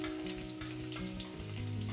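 Garlic from a whole bulb, with a little mustard seed, fries steadily in well-heated oil for a vegetable dish, giving a loud continuous sizzle and crackle that sits close and never lets up.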